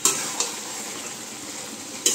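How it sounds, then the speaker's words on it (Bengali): Chicken cooking in a wok sizzles softly while a utensil scrapes and stirs against the metal, with three sharp scraping strokes at the start, shortly after and near the end. "আমি শুধু একটু নাড়াচাড়া করছি কড়াইতে"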